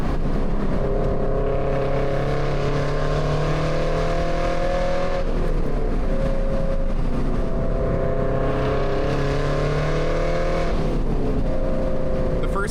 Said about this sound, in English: I am actually digging the mature exhaust sound